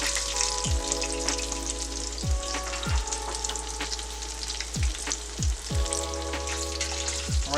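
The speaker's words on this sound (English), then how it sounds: "I had this frying for about 6 minutes on each side." Breaded vegan fried chicken pieces fry in hot oil over medium-high heat, giving a steady close crackling sizzle with occasional sharper pops throughout.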